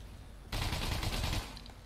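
Burst of rapid automatic gunfire in the video game Fortnite, sprayed into a bush; a loud, dense volley lasting about a second that starts abruptly after a quiet moment and then cuts off.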